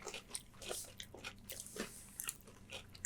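Crunchy chocolate bar with puffed rice being bitten and chewed close up, a rapid run of dry crisp crunches with no talking.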